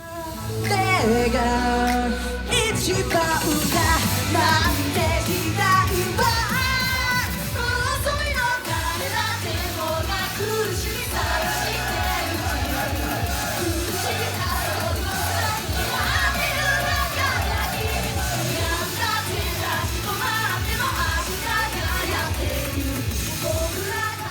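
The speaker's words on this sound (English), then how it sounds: "We randomly stumbled upon an all-girl J-pop group, full performance, mics, choreography, the whole thing." An all-girl J-pop group performing live in Osaka with mics and choreography: loud, continuous pop music with sung vocals, crowd noise mixed in throughout.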